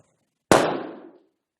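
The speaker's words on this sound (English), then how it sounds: "I merely succeeded in popping the balloon." A single sharp pop as a helium-filled balloon bursts when an ignition source touches it, close and loud, its noisy tail fading within about half a second into silence.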